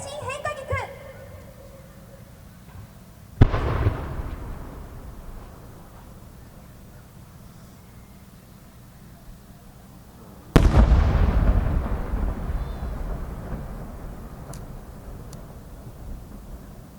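Two big fireworks shell bursts from an 8-inch multi-ring changing-colour chrysanthemum shell by Kita-Nihon Hanabi of Akita: each a sharp, loud boom followed by a long crackling, rumbling decay, the second heavier and longer, with faint voices early on.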